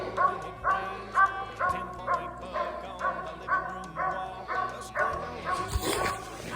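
A hunting dog bays repeatedly at a treed animal during daytime training, a steady series of loud barks and yips at a regular rhythm, fairly close, with some faint background noise.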